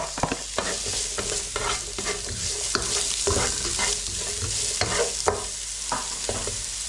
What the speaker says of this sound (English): Now a little bit more oil in the pan. I'm just going to fry off these shallots.